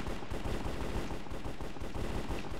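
Rapid bursts of shotgun gunfire in a competitive video game match, loud and dense, shots repeating in a quick irregular rhythm with no talk.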